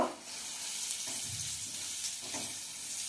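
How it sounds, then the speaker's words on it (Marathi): Onion with asafoetida sautéing in a kadhai gives a steady, close sizzle with a soft crackle and occasional stirring, and no voices. "कांदा छान परतून घ्यायचा आहे"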